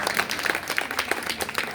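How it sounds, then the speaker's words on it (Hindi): An audience at a parenting talk claps together to invite a woman onto the stage, a dense, steady patter of many hands, fairly close and continuous throughout. "जब तक आप ताली नहीं बजाओगे नहीं आएंगी"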